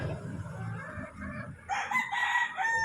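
An imported Yellow-Legged Hatch rooster crows once nearby, a loud strained cock-a-doodle-doo following a few low clucks.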